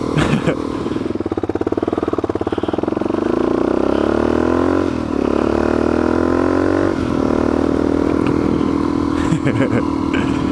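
A motorcycle engine on the Boreas Pass mountain road rumbles close by, then revs up in rising sweeps with a brief dip as it shifts. Loud throughout, with faint talk underneath.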